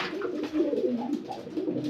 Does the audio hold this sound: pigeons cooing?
yes